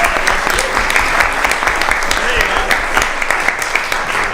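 A live-read audience claps for the actors and casting director, a brisk, dense patter of many hands with some sharp individual claps standing out near the front, loud and continuous throughout.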